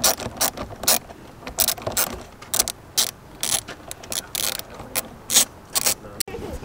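A ratchet on a 7mm fastener holding the airbox of a Seat Leon Cupra 280 clicks loudly and close, in quick repeated bursts of pawl ticks with brief pauses between strokes.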